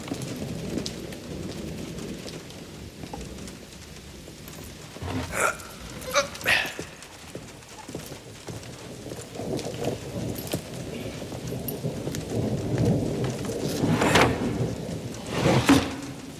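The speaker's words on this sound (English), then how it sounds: "The rain's getting heavier." Heavy rain pours steadily while low rolls of thunder swell and fade several times, growing louder toward the end, with no talking.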